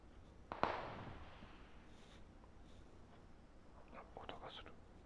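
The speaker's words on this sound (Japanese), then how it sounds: "銃声か。" A gunshot in the PUBG Mobile video game, a single sharp, distant crack followed by a fading tail over low background noise, with faint soft voices later.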